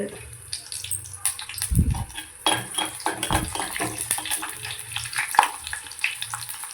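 Vadagam tempering sizzles in hot oil in a pan for a fish curry, a steady crackling fry with clinks of utensils and stirring, and one louder low thump partway through.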